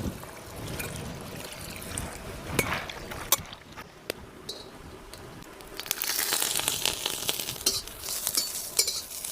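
Green chillies roasting in an iron wok, with soft faint sizzling broken by sharp scraping clicks of a utensil against the metal, louder and busier toward the end, no talk.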